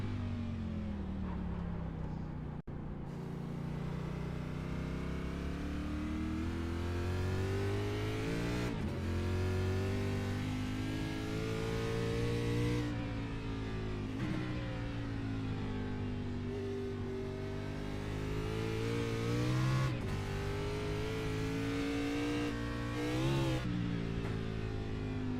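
Race car engine in the iRacing game, revving continuously with repeated rises and drops in pitch as it shifts and accelerates, loud and near, with brief cuts between gears and no talk.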